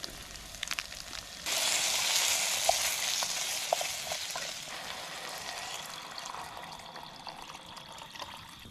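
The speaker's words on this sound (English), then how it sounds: "Now that we're boiling" Ramen noodles with a flavor packet and egg bubble and hiss in a pot at a tarp-and-bivy campsite, a sudden surge of boiling that settles into a steady simmer with small pops.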